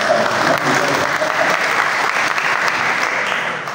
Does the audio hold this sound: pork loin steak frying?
no